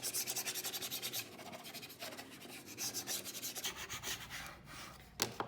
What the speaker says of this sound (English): We're going to actually rub the whole vinyl down to our board using a scraper